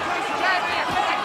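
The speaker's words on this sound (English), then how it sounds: "Subdued sort of crowd here." Low murmur of a packed arena crowd at a WBO featherweight boxing bout at Braehead Arena, subdued chatter rising and falling steadily in the background.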